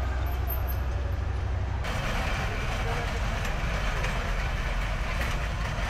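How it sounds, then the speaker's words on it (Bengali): A train pulls out of Sitakunda railway station, a steady broadband rumble of moving rail cars with faint clatter filling the whole stretch, close and continuous. "ট্রেন চলে যাচ্ছে, আর এই হচ্ছে সীতাকুণ্ড রেলওয়ে স্টেশন"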